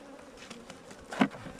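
Dense buzzing of many honeybees at a hive, a steady insect drone with one louder swell as a bee passes near.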